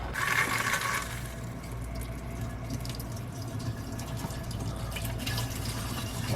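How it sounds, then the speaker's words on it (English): A commode in a 1978 Shasta RV flushes with a steady rush of running water, close and continuous throughout, with no voices. "let's run some water in the commode and"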